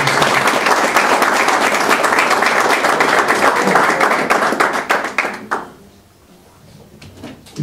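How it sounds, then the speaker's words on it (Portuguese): Church congregation claps loudly and steadily for several seconds, then the applause thins into scattered claps and fades to near quiet, with a few taps at the end. "Se assente e aplauda o Senhor bem forte"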